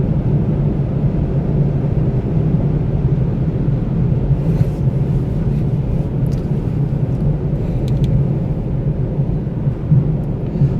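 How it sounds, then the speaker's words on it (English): A steady, low road rumble fills the cabin of a 2019 Lexus LC500h hybrid moving through traffic, a continuous drone with a few faint higher ticks and no speech. "Pretty crazy traffic here, wouldn't you say?"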